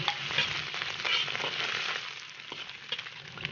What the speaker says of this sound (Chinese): 锅里少倒点油，先把肥猪肉炒一下